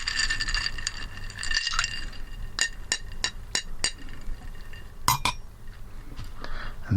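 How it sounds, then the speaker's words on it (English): A bar spoon stirs an Old Fashioned with cocktail cherries and syrup in a glass, giving a series of bright, close glassy clinks, several evenly spaced taps followed by a louder pair, over soft background rustle. "and give it a stir"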